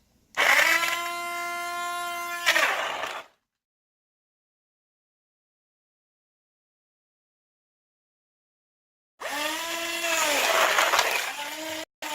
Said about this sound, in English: Then you turn the blender upside down. Double click the switch.